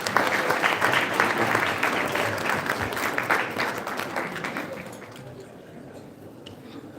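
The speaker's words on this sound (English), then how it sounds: "please give a warm round of applause to our guests" A conference audience at the DC Auto Show public policy day gives its guests a round of applause: loud, dense clapping at the start that gradually thins and fades toward the end.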